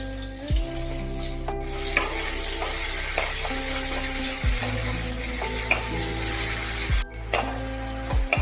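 Chopped onion dropped into hot oil with cumin and mustard seeds, sizzling loudly and continuously while a utensil clinks and scrapes the pan in a few sharp knocks.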